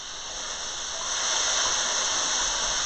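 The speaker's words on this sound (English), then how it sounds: "Get the steam going there." Steam hisses in a steady, close, breathy stream while mushrooms and corn cook, swelling slightly louder partway through, with no voices.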